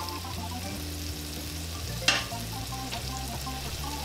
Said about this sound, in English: Gonna let these babies kind of fry, soften up a little bit.